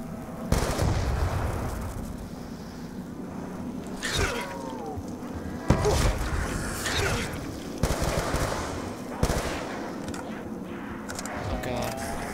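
Rapid gunfire from Black Ops 2 Zombies, a first-person zombie-survival shooter, comes in sharp repeated bursts of shots over constant game noise, with people talking at times.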